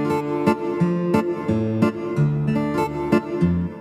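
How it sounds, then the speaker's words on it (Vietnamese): An electric guitar tone, likely from a keyboard, picks out a short melodic phrase of clear plucked notes over sustained low accompaniment, steady and moderately loud, with no talking. "Tiếp theo đó là tiếng guitar điện nè."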